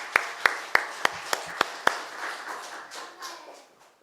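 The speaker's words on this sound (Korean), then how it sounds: "주님께 큰 영광의 박수 올리겠습니다" A church congregation at Sunday worship gives a short burst of sparse, sharp hand claps that fade after a couple of seconds into a quiet room murmur.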